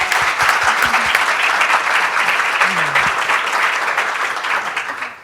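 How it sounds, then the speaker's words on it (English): A big round of applause from an audience welcoming a panel of home designers, loud and sustained, with a brief voice under the clapping before it tapers off at the end. "Please help me in welcoming this amazing panel of designers with a big round of applause"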